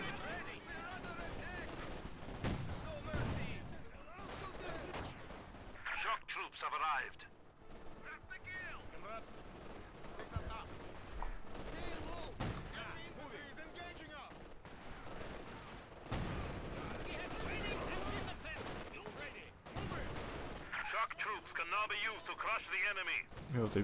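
Bursts of machine gun fire mixed with other gunshots and explosions in Company of Heroes 2, dense and continuous battle noise with someone talking over it.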